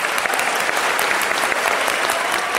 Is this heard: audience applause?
yes